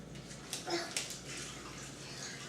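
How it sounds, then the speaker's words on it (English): Four cups of water are poured into a cooking pot, giving a soft splashing gush that swells briefly in the middle and then trails off into a quiet trickle. "we're going to go ahead and add the 4 cups of water"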